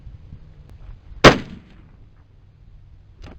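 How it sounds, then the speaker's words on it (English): A single loud rifle shot from a .30-06 firing a reduced recoil 150 grain soft point handload with IMR 4895 powder in mixed brass, a sharp close crack with a short decaying tail, then quiet. "We're going to fire a couple shots to see how she groups at distance."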